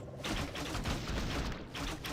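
Mortar fire in an Age of Empires–style strategy match, a dense overlapping volley of booming shots and impacts running continuously under busy battle noise, with no talk.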